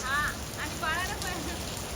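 Heavy rain pours down outdoors at the start of the monsoon, a steady broadband hiss filling the scene throughout, with faint voices and speech-like sounds woven under the downpour.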